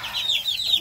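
A chicken clucks in a quick run of short, bright, close calls, loud and alone on a farm.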